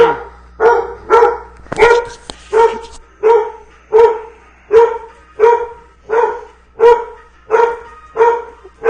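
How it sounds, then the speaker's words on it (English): Dogs at home bark loudly and close by, a regular string of about a dozen sharp barks evenly spaced over several seconds, with no other sound between them. "My dogs are freaking out."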